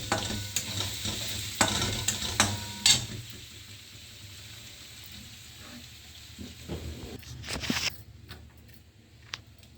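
Chopped onion and two green chillies dropped into a hot pan sizzle while a spoon stirs and scrapes in several sharp bursts, then the frying settles into a quieter hiss with occasional clinks.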